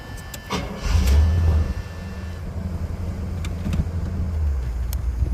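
A 1976 Cadillac Eldorado with a 500 cubic inch engine cranks and fires, a short burst of starter and catch followed by a deep, steady idle rumble close by.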